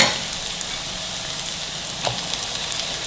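Chicken and onions sizzling in a hot pan for sweet and sour chicken, giving a steady, even crackle that stays moderately loud throughout with a few sharper pops and no talking.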